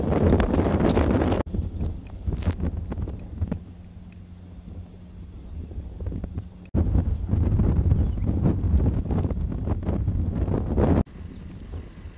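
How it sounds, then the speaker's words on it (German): Gusty wind buffeting a microphone outdoors on high ground in Namaqualand, South Africa, rising and dropping in strong blasts with quieter lulls between, loud and close throughout. "Es ist ein bisschen windig hier oben."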